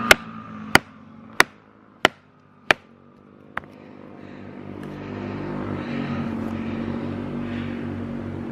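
A Ka-Bar Becker BK2 knife whacking wood outdoors: five sharp, loud evenly spaced chopping strikes and a sixth lighter one, followed by the rising drone of dirt bikes passing in the distance.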